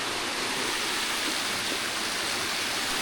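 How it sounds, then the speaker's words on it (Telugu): Water pours steadily at the Kondapalli waterfall near Kondapalli Fort, Vijayawada, a dense, even rushing hiss heard close and loud throughout with no voices. "కొన్ని వాటర్ ఫాల్స్ అయితే వాటర్ ఫ్లో అవుతుంది"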